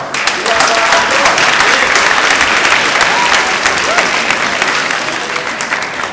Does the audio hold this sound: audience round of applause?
yes